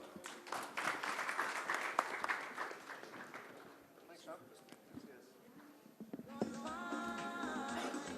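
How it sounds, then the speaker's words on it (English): Audience applause for panelists at a product management summit, a scattered clatter of clapping that thins out midway and is then overtaken by loud music, with voices mixed in. "let's give them a big round of applause."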